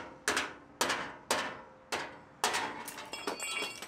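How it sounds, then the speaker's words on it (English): Hammer blows on a bent metal fender of a wrecked dump trailer: five sharp, ringing strikes at a steady pace, then a quicker cluster of lighter clanks, loud and close with no talk. "Now we're going to hammer it straight, get all the buckles out of it."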